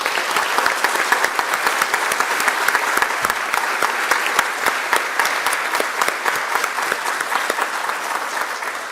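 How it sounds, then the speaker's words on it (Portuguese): A large audience gives sustained applause for a professor at a university directorship inauguration and anniversary ceremony, a thick continuous roar of many hands clapping that stays loud and even throughout. "Então, eu gostaria de pedir uma grande salva de palmas"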